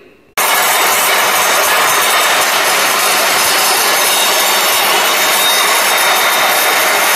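A hand saw cuts through wood with a loud, continuous rasping scrape, starting abruptly and carrying on without pause.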